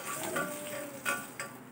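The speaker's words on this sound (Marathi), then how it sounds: "आता ही फोडणी आहे ना, दहीवरती घ्यायची आपल्याला।" Hot oil tempering of cumin and green chili poured onto curd gives a soft sizzle with a few brief clinks of a pan or spoon, faint and close.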